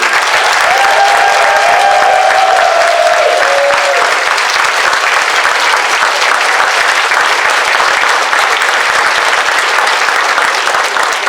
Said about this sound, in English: Could we get a round of applause for everybody?